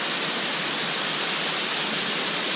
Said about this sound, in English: There's a waterfall coming down.